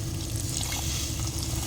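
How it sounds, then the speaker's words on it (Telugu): Water is poured into a crab curry masala cooking in a pan, giving a soft, steady pouring sound, faint and close. "అందుకే కొద్దిగా నీళ్ళు అయితే యాడ్ చేసుకున్నా"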